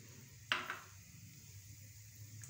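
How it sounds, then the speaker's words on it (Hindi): Popcorn kernels tipped into a pan of hot oil make one short, sharp rattling clatter, then a faint, quiet hiss settles for the rest. "तो यहाँ पर ये हमने ऑयल हमारा हो गया गर्म, इसके अंदर मैं पॉपकॉर्न ये डालूंगी"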